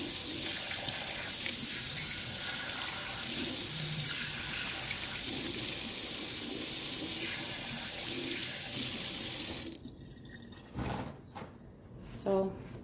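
Tap water rinsing leftover ink out of Epson EcoTank sublimation ink bottles in a sink, a continuous close splashing stream that stops near the end, leaving a few drips and clinks.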